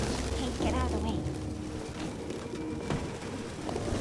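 Pigeons coo and flutter underfoot in Detroit: Become Human, the soft calls blended into a dense game ambience while someone talks over them.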